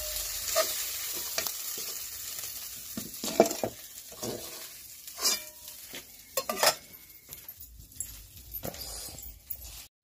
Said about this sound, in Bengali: চিংড়ি মাছ ভাজাটা হতে থাকে